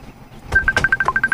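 An incoming call rings on a cellphone in a radio drama: a rapid string of about a dozen even, electronic beeps, fairly loud and close, with no talk over it.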